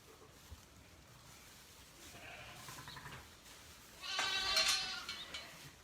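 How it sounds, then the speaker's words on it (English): Sheep and lambs in an indoor lambing shed on a farm housing 650 ewes, bleating faintly in the background, with a louder, nearer burst of bleating toward the end. "Lots more sheep, lots more lambs."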